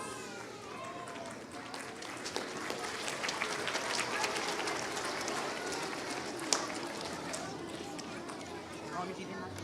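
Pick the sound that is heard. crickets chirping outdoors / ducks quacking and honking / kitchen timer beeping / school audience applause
school audience applause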